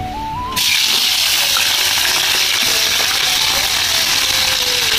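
Chopped onion, chili and tomato are dropped into a hot pan for a chicken curry, setting off a sudden loud, close sizzle that keeps crackling steadily without a break.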